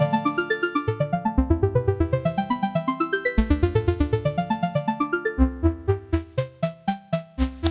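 Synthesizer arpeggio played on a Drift synth with modulated noise: a rapid, steady stream of bright plucked notes stepping up and down. Near the end the notes slow into fewer, louder, longer stabs with more noise in them.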